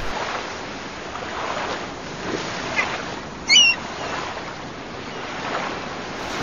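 Steady rushing surf and wind wash over the microphone near open water on an estuary with strong waves, with a brief higher squeal partway through.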